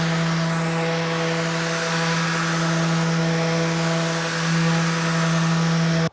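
A power sander runs steadily on wood being sanded to 220 grit, a loud continuous motor hum with a droning pitch that barely changes, close by and alone until it cuts off at the end.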